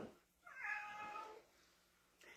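A single drawn-out cat meow, fairly close and clear, followed by quiet, with a faint brief noise near the end.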